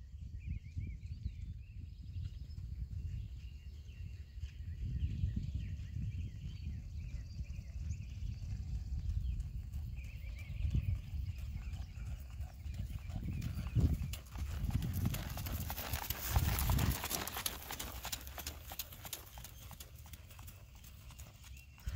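Horse hooves at an extended jog in a western riding class, a steady rhythmic clip-clop continuing throughout at moderate distance, with a faint announcer voice and crowd ambience in the background.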